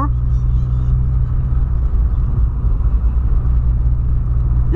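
Volkswagen Polo fitted with high-performance spark plugs accelerating hard toward about 105 km/h, a loud, steady, close engine drone and low road rumble that holds without a break.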